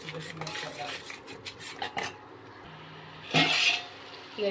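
A spoon scrapes and clinks against a pan as dry masala powder fries in oil, in quick rhythmic strokes with a louder sizzling burst near the end and a quiet background hum.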